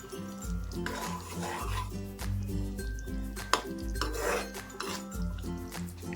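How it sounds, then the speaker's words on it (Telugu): A spoon scrapes and clinks around a pan while paneer curry with coriander is stirred, irregular metallic knocks and rubbing close by, with no talk. "కొత్తిమీర కూడా వేసుకొని బాగా ఇలాగా కలుపుకోవాలి"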